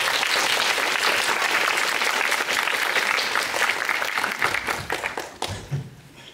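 An audience applauds a cinematographer after a film's first screening at the Busan International Film Festival, with steady close clapping that thins and breaks into scattered claps near the end.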